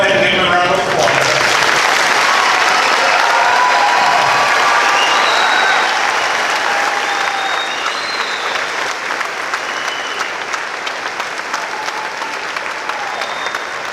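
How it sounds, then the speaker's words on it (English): A large commencement audience applauds graduating seniors, a dense, steady wash of clapping with scattered cheers and voices that carries evenly through the whole stretch without letting up. "go ahead and give them a round of applause."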